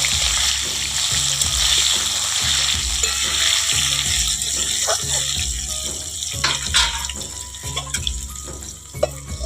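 Jackfruit frying in a pan with turmeric powder while being stirred, a continuous loud sizzle layered with a repeating rhythmic hum and occasional scrapes and knocks, with no talking.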